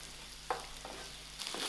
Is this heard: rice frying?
yes